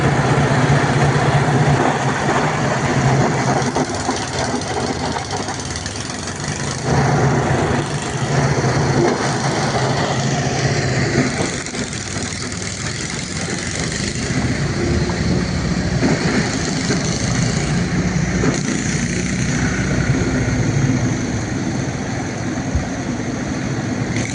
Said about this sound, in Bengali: নামখানা বাংলাদেশে জাহাজ যাচ্ছে